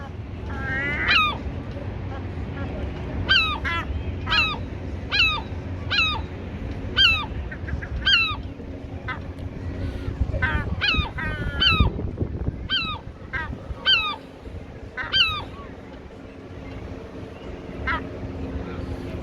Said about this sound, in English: Seagull attacks again.